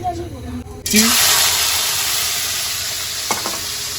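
Popcorn kernels dropped into hot oil set off a sudden, loud sizzle just under a second in, settling into a steady close hiss with a brief clatter near the end.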